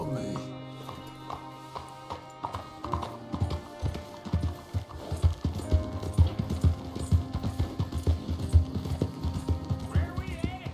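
Horse hooves clip-clop steadily in Red Dead Redemption 2, a rhythmic run of close taps over game music and ambience, with a voice speaking partway through.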